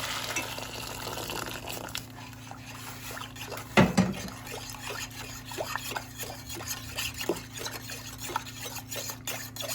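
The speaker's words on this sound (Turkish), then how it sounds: "Peynir suyunu da ekliyorum." Cheese whey pours and trickles into a pot of stuffed collard greens with yogurt, a soft steady liquid sound with occasional light clinks of utensils and one louder knock partway through.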